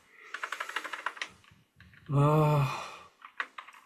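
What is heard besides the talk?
typing on a computer keyboard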